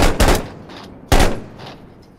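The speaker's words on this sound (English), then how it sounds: "What was the explosion?" In the military shooter Six Days in Fallujah, two sharp, loud blasts go off about a second apart, each a sudden crack followed by a short fading rumble and echo, with no voices.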